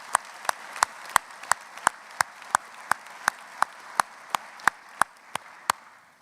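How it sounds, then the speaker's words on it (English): Rhythmic applause from a graduate commencement audience in a concert hall, with sharp, evenly spaced claps repeating about three times a second and ringing in the room. "deserves a specific round of applause for your commitment to getting finished and completing that work"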